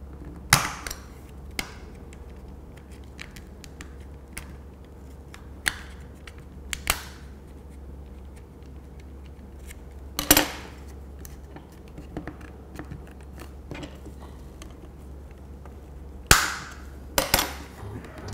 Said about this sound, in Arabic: هنلاقي الريموت اتفك معانا بكل سهولة